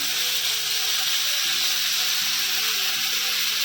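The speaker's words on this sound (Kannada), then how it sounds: "ಮೆಣಸಿನ್ಕಾಯಿ ಎಲ್ಲ ಹುರಿದಾಗಿದೆ, ಹಾಗಾಗಿ ಅದ್ರ ಜೊತೆಗೇ ಟೊಮೊಟೊ, ಈರುಳ್ಳಿ, ಬೆಳ್ಳುಳ್ಳಿ ಇದನ್ನು ಚೆನ್ನಾಗಿ ಹುರಿತಾನೆ." Tomato, onion and garlic sizzle steadily in a hot pan with already-fried chillies, a constant close, loud hiss of frying that runs the whole time with no voices.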